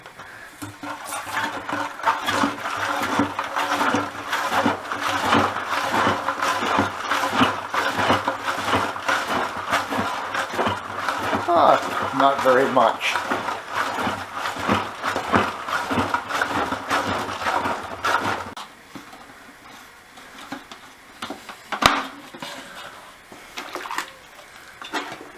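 A USB mini rotating turbine runs inside a bucket-and-plunger washer, giving a steady close churning and sloshing of water that stops abruptly near the end, with a brief remark from a speaker.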